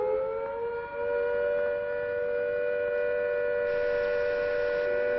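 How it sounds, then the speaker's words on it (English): Civil defense siren from the video game Fallout London, holding a long steady note with layered harmonics that stays loud and unbroken throughout, with no voices. "the siren will sound a steady note like this."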